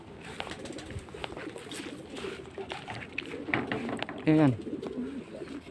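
Racing pigeons return to the loft during a derby, with a short, clear pigeon coo standing out near the end over steady outdoor background noise while people talk excitedly throughout.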